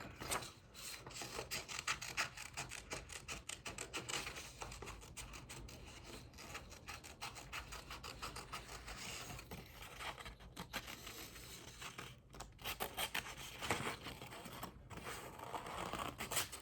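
Scissors cut through paper to free small cactus shapes for a craft project, giving a continuous close rasping snip-and-rustle with rapid irregular strokes over about seventeen seconds, no voices.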